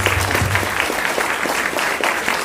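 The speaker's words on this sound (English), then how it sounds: "give yourselves a round of applause for that" Audience applause at a county government volunteer recognition breakfast, a steady patter of many hands clapping for about two seconds at moderate, even volume, with no talk over it.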